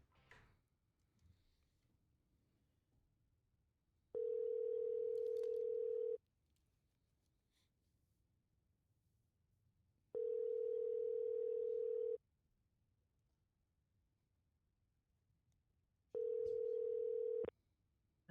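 Ringback tone on a telephone call: three long, steady, identical tones, each about two seconds, repeating at a regular rhythm with quiet pauses between them and faint background noise.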